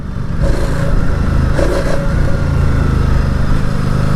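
A 2019 Ducati Diavel 1260S engine drones loudly and steadily while riding, a close, throbbing rumble with slight surges in revs and wind noise mixed in, no talking.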